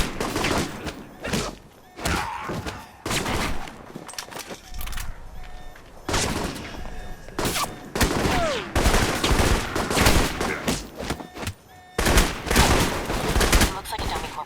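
Gunfire in the video game Alpha Protocol: loud, repeated bursts of rapid automatic shots with brief pauses between volleys, continuing throughout, with a voice occasionally speaking between the shots.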